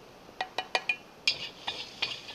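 Fish pieces coated in starch are mixed in a bowl with stir-fried ingredients, giving a quick series of light, close clinks and scrapes from a utensil against the bowl, with no talking.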